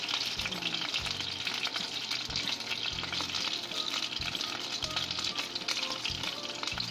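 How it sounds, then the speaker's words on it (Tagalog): Chicken pieces for sisig frying in hot oil, a dense continuous sizzle with intermittent low stirring thumps from the pan throughout. "So prituhin muna natin bago ilagay lahat-lahat"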